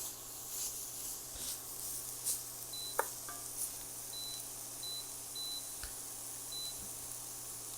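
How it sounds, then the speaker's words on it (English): A kitchen timer gives short, evenly spaced high beeps over a quiet sizzle of vegetables sautéing in oil and roux for gumbo, with a few clicks and clatters. "Trying to turn my timer off."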